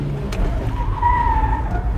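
Esemka Bima 1.3 pickup, a 2021 model, skidding its tires through a handbrake U-turn: a loud, close tire squeal rising and holding for about a second over a steady engine rumble.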